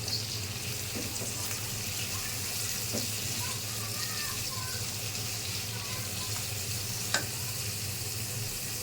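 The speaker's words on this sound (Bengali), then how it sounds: "এখন আলু দিয়ে দিলাম। আলুটাকে ভাজতে হবে।" Potatoes fry in a pan with onions, giving a steady soft sizzle close by, with a few light scrapes and one sharp clink of the utensil.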